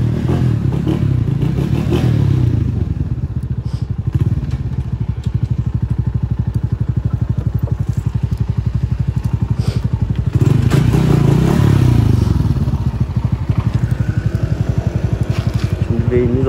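A low-slung cruiser motorcycle engine drones and revs steadily on an Izmir ride, loud and close with a pulsing exhaust beat, swelling with throttle around the middle and end, while wind buffets the microphone and a rider talks over it.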